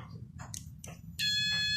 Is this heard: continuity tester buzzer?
yes